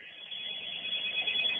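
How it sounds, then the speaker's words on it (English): A telephone rings steadily and fairly loudly in a room, a continuous high electronic ring with no talking over it. "Some phone's ringing in here."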